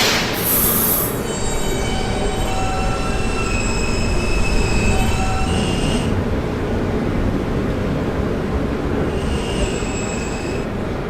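A video-game subway train pulls into the final station of its route, wheels squealing in long high-pitched tones over a loud, steady rail rumble throughout, with no voices.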